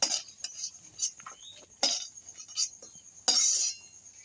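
Fried peanuts and dried red chillies scooped out of a frying pan with a metal spoon, giving scattered light clinks and scrapes, a few sharper knocks and one louder rattling scrape near the end, with no voices.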